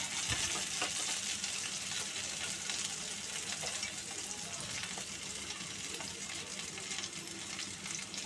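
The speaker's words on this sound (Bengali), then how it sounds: "আলুটা মোটামুটি ভাজা হয়ে গেছে" Potatoes fry in a pan, giving off a dense, even sizzle from start to finish, with faint scraping as they are stirred; no voices.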